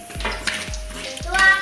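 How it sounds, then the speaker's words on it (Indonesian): Kerupuk crackers fry in hot oil in a cooking pan, giving a soft sizzle with repeated stirring scrapes and light utensil clinks, all close by. "Ini proses penggorengan kerupuk untuk persiapan nasi kuning"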